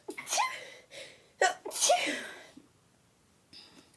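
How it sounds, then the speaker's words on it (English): A single loud, close sneeze with a sharp gasping build-up, then quiet, followed by a faint breathy sound. "I feel like I have a sneeze coming."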